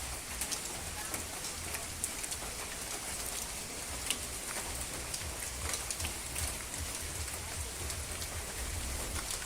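Heavy, unbroken rainfall drums on surfaces around a rural village home, a constant near hiss with scattered louder drips and no voices.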